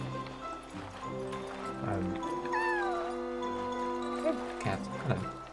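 A cat in the video game Yonder meows a few times over soft game music and light footstep sounds, fairly close.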